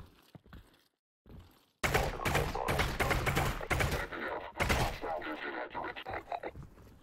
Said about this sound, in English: I'm actually gonna start shooting wildly and see if I can break them from their animations.